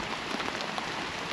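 Light rain pattering steadily on surfaces outdoors at night after storms, a soft, even hiss of drops, faint and unbroken with no voices.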